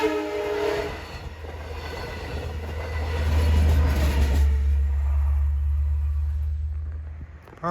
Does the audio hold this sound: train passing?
yes